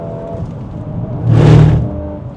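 VW Golf 8.5 R driving at speed on the autobahn, a steady engine and road hum with a brief louder whooshing swell as something rushes past, then settling back to a constant drone.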